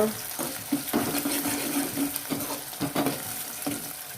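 Ginger garlic paste fries in a pan for Maharashtrian ambat varan, a close steady sizzle broken by spatula scrapes and knocks.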